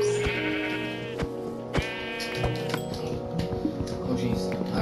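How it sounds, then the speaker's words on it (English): Sheep bleating in the Minecraft video game, two clear bleats close together near the start of the clip, then more game sounds and soft background noise. "Ooh, there's a lot of sheep."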